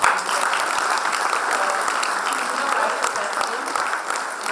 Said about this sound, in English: So with a huge round of applause, let's welcome our